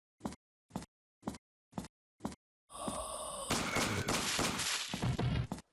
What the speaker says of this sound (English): I just love the explosion effect so much.